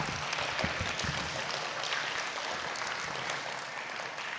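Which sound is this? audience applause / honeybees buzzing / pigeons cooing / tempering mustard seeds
audience applause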